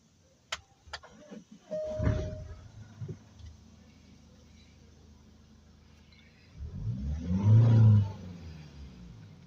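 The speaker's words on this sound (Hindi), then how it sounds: "तो आप गाड़ी को स्टार्ट कर रहे हैं" Jaguar XF with an engine noise and pickup problem, started up: a few clicks and a brief crank, a quiet idle, then the engine rising into a louder rev near the end.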